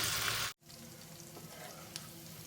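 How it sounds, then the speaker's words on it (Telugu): Chicken pakodi fritters frying in hot oil, a steady close sizzle that cuts out for a moment and returns with soft bubbling and a few small pops, with no talk over it. "ఆయిల్ బాగా వేడైందండి. ఇప్పుడు మనము పకోడీ వేసుకుందాం."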